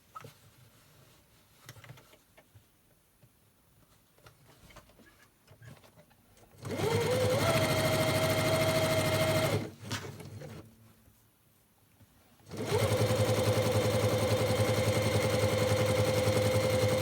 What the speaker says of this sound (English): you're going to sew down that edge there